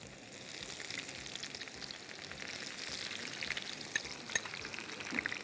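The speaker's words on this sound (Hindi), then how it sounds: "अभी थोड़ी सी प्याज फ्राई करेंगे, तो उसके अंदर प्याज भी डल के डाल देते हैं।" Onions frying in hot oil in a pan while cooking haleem, a steady soft sizzle and crackle with occasional small pops, fairly quiet and close, no voices.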